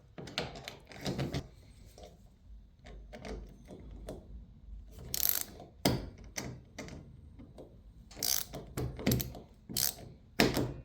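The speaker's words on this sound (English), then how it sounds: "So this should be locked, which would put the latch on this side, and then unlock should be up like that." Replacement truck topper latch handles click and clunk through a series of short mechanical snaps and rattles as they are locked and unlocked, close and fairly quiet, with no talk.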